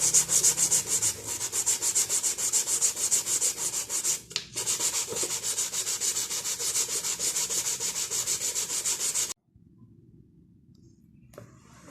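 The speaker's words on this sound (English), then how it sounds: "This is a Grit 1000 sandpaper." Fine 1000-grit sandpaper rubs a car bumper in rapid, continuous back-and-forth strokes, loud and close, with a brief pause, before stopping abruptly into near silence.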